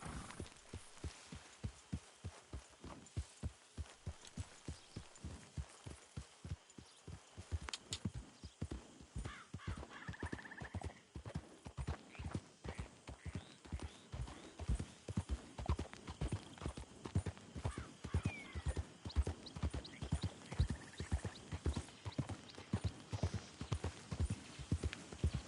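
Galloping horse hooves in Red Dead Redemption 2 pound in a steady, rapid rhythm for the whole stretch, close and continuous, with faint game ambience and a brief whinny mixed in.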